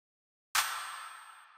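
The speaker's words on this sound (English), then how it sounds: "Oh, it's like a clap." A single sharp clap sample from a kompa sample pack in Logic Pro X strikes once after a brief silence, then fades through a bright, gradually decaying tail.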